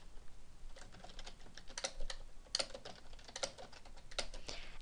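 Keys clack on a computer keyboard in short, irregular bursts of crisp taps, quiet and close, with brief pauses between the runs of typing.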